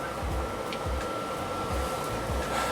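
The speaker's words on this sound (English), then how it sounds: "So you can hear the heater going right now." A van's heater runs with a steady, continuous mechanical hum and a faint fan-like whir, running evenly throughout without pauses.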